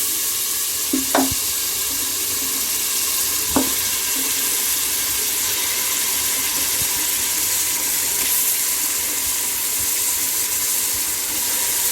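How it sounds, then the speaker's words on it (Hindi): Marinated mutton fries steadily in a pan after tomatoes have cooked down, a continuous close sizzle with a few brief stirring clatters near the start and no voices. "मैरिनेट किया हुआ मटन डालेंगे और 4 से 5 मिनट मटन को भूनेंगे"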